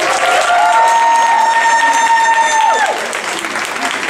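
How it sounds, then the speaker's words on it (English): Loud applause from an audience at a year-end program fills the clip, with a sustained whistling or feedback tone sliding above it before fading. "let's give a round of applause to Team Ceco up here, please."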